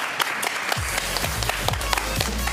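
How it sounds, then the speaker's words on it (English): An audience at a live game-show event claps for contestants, with scattered individual claps over low, thumping background music. "Let's give them a round of applause."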